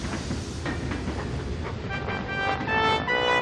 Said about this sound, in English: Please, start straight away, Sir Handel huffed.